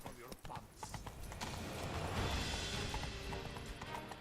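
Roach, a horse in a video game, gallops with quick repeated hoofbeats under a steady wash of game noise, with voices talking over it at a fairly low level.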